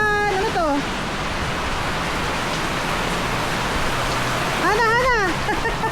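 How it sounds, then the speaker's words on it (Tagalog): Heavy rain pours in a dense, steady roar that fills the whole stretch. Voices speak briefly over it at the start and again near the end. "Lakas ng ulan."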